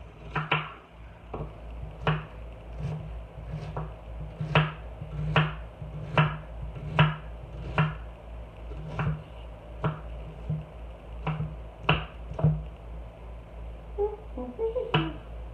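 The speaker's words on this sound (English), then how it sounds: "I'm just going to chop up this onion and put it in the pot" An onion being chopped on a cutting board with a knife while making a budget hamburger dish for a family meal, about twenty sharp, moderately loud knife taps in an uneven rhythm over a steady low background hum.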